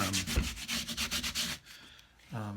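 Wet glue being wiped and rubbed off the wooden heel joint of a cigar box guitar build, a quick series of rhythmic scrubbing strokes, then a short pause and a final rub.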